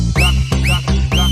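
Whistling, three loud rising-and-falling whistles in a quick repeating pattern, each a sharp upward sweep over a low sustained backing tone.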